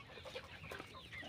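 A free-range country rooster about 75 days old and weighing 1.1 kg clucks in a short, close burst of low throaty calls, with no talking.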